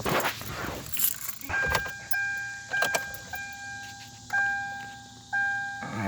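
A 2008 Hyundai Elantra with keys jangling in the ignition and a series of steady chime tones as the car is started, heard from inside the cabin, no talking.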